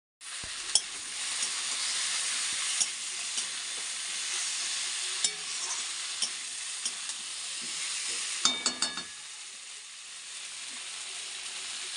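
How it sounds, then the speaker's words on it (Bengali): Potatoes fry in a pan with a constant close sizzle and hiss, punctuated by occasional scrapes and clanks of stirring, including a short cluster of knocks near the end. "এখন আমি আলুটা কিছুক্ষণ সাঁতলিয়ে নেব এরকম করে"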